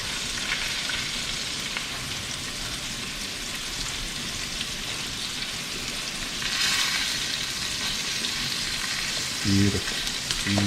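A white-tailed buck heart fries in a pan with a dense, continuous sizzle that stays loud and even, and a couple of soft utensil knocks come near the end.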